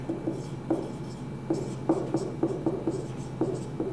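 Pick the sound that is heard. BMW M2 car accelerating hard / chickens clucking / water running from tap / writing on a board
writing on a board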